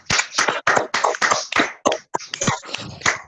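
An audience claps after a live yoga session at an online International Yoga Day webinar, with a series of uneven, closely spaced bursts from a few hands, fairly near and clear.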